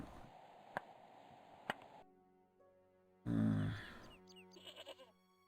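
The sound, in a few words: goat bleating, video game Broken Sword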